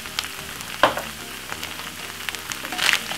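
Quorn meat-free mince with mixed herbs and pepper fries in a pan, a steady close sizzle broken by a few stirring scrapes and clatters, with no talking.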